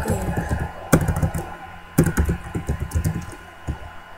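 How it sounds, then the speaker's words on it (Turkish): Rapid, uneven clatter of laptop keys being typed on, close by, with a few harder keystrokes standing out from the steady tapping. "Klavye sesi çok gelebilir laptopun içinde."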